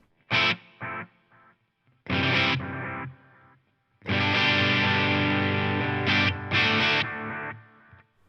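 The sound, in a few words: electric guitar with analog echo effect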